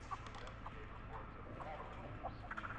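A chicken clucks softly in The Texas Chainsaw Massacre video game, short scattered calls over a low, steady background rumble of ambience.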